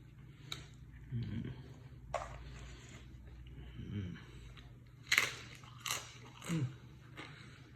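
Someone eating a bite of freshly made guacamole, with soft chewing and a few crisp crunchy bites scattered over several seconds, close and quiet with no talking.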